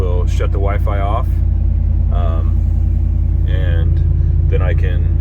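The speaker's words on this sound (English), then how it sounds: "it'll keep the truck running" A truck engine fitted with a MegaSquirt MS3 idles steadily in a low, continuous rumble throughout, close and loud, while someone talks over it.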